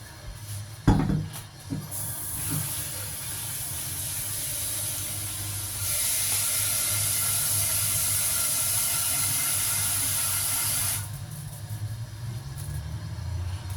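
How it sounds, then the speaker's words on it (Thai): Thai curry paste with a little coconut milk is stir-fried in a pan for a beef and eggplant curry. A loud, steady sizzling hiss follows an opening thump, grows stronger in the middle, then eases back. "อันนี้ผัดน้ำพริกแกงก่อนนะคะ"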